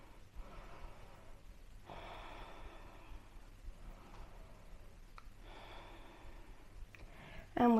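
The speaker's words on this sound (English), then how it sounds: "Deep breaths here." Slow, deep breathing during a strong vinyasa yoga flow, heard as two long, soft airy inhales or exhales separated by quiet pauses, close and faint, ending with a brief louder noise.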